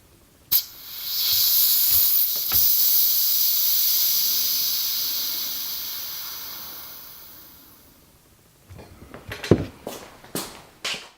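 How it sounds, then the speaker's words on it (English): Air hisses out of a RockShox Pike suspension fork as it is deflated through the valve with a thin Allen key. A sharp click starts a steady hiss that fades over several seconds, followed by scattered handling clicks. "remove the air valve cap and deflate the fork with a thin Allen key"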